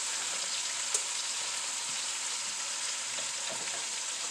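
Steady even sizzle of green beans and potatoes cooking together in a pot, continuous and fairly loud, with a faint clink near the start and no voices.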